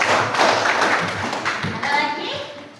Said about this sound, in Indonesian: Beri tepuk tangannya untuk kelompok 1.